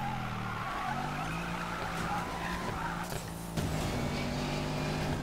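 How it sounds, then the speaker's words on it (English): A Mercedes-AMG GT drifts in the racing game Need For Speed Payback, tires squealing in a long sustained screech over a steady engine drone, with a brief dip and then renewed squeal and revving near the end. "Drift around that corner."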